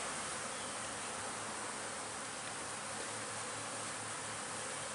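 A dense, steady drone of many honeybees buzzing close by at a hive on a sunny 65-degree day, continuous and even throughout.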